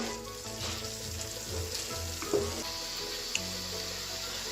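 Horse gram powder being stirred in a pan over a slow flame, giving a steady soft sizzle with faint scraping and a couple of brief clinks, no voices.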